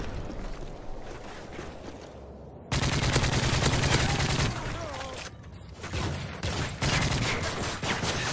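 Rapid bursts of automatic gunfire from a favorite weapon in Call of Duty: Modern Warfare 3, loud sustained volleys with short gaps, overlapping explosions and game effects, with a voice talking over parts.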